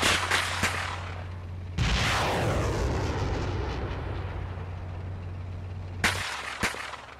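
Tank cannon fire in a war video game: one loud booming blast with a long rumbling decay, later followed by two sharper shots over a low engine drone.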